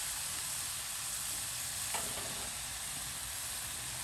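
Omelette ingredients fry slowly in a pan, giving a steady, even sizzle that holds at a constant level throughout, with a brief scrape of stirring near the middle and no voices.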